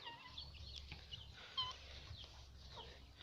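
Three guinea fowl and a rooster cluck and chatter faintly at a distance, with scattered squawky calls over a quiet outdoor background.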